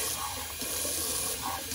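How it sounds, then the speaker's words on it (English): Cold tap water runs steadily into a bathroom sink after a wet shave, making a constant close hiss and splash with no talking. "let's do a little cold water rinse"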